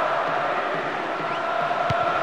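Stadium crowd in the video game Pro Evolution Soccer 6, a steady dense roar of spectators that stays level throughout, with a brief thud near the end.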